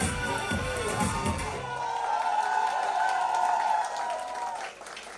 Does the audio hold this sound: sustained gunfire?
no